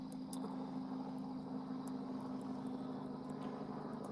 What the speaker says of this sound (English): Some kind of helicopter coming off.